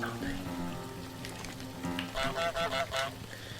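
In a video game, a cartoon goose lets out a quick run of four or five nasal honks in a row, over a soft backdrop of game music and ambient noise.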